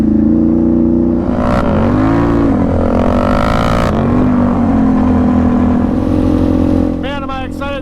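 A motorcycle engine drones steadily while riding, its exhaust note swelling and dipping with throttle changes, loud and close throughout, and a voice speaks briefly near the end.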